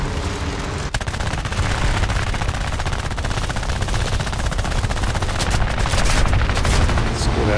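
Aircraft guns on an A5M4 fighter in the video game War Thunder, air arcade mode, fire in a loud, dense, continuous rattle of rapid shots throughout.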